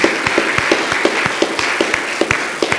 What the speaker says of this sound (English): Let's give the veterans a round of applause.